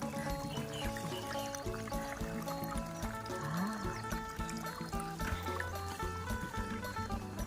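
Water trickling and flowing through a backyard stream or ditch with many apple snails, a continuous busy wash of small splashes and gurgles, fairly close, with no talk over it.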